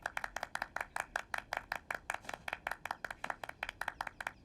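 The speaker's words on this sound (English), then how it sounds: "this time, clap like you mean it" A single pair of hands claps quickly and steadily, around five crisp claps per second, close and dry, with no other sound.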